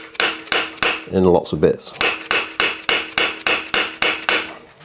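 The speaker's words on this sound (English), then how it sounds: "I'm literally just going to hammer this through." Loud, sharp metallic hammer blows drive a chisel into a stuck carbon bicycle seatpost in a steady rhythm, about two per second, with a brief spoken phrase between them.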